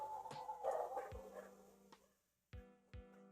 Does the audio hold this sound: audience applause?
no